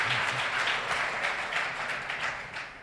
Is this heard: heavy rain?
no